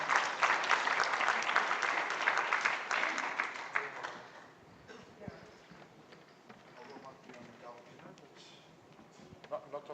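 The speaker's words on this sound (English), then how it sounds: "If we could just give a round of applause to our panel" Conference audience applauds a panel at a construction law event, a loud burst of many hands clapping for about four seconds before fading into quieter room murmur and scattered claps.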